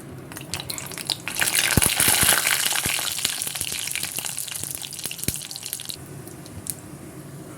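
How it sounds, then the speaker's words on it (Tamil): Mustard seeds and urad dal splutter in hot sesame oil for an Andhra kara chutney, giving dense crackling and popping with sharp individual snaps over a steady sizzle, loud and close, easing off toward the end. "கடுகு உளுத்தம் பருப்பு நல்லா பொரியும் போதே"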